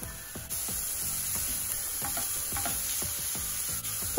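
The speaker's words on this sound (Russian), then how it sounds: "Сначала начинаем обжаривать лук и морковку." Onion, carrot and zucchini fry in a pan with a steady loud sizzle, broken by repeated scraping strokes as the vegetables are stirred.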